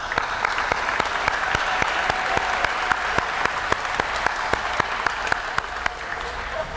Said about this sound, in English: I'm going to give you an applause